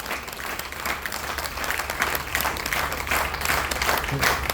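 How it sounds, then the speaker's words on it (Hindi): Audience applause at a business meeting held at a grill restaurant, many people clapping together in a lively, rhythmic burst that builds slightly louder, with faint voices murmuring underneath. "मैं चाहूंगा एक बार जोरदार तालियां हो।"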